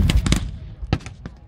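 A few sharp, loud tank cannon blasts in quick succession during a WWII battle reenactment, followed by a couple of fainter bangs further off.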